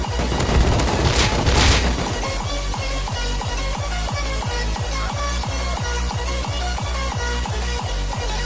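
Rapid automatic gunfire from the video game Rust, a steady stream of evenly spaced loud shots following a brief burst of louder, noisier blasts at the start; no talking.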